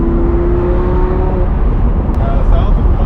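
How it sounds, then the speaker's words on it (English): Sports car exhaust from a Porsche 911 or Lamborghini Huracán while driving, a steady loud engine drone with a sustained tone, heard from inside the car with talk over it. "Maybe just for the exhaust sounds."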